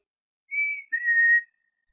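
A soft, sweet human whistle imitates a red squirrel's love note: two smooth sustained tones, the second slightly lower and longer, heard close and alone.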